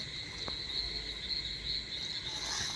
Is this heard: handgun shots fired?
no